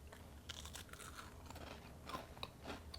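Biting into a crunchy keto cracker, a string of sharp, dry crunches and chewing close to the mic, fairly quiet, with no talk.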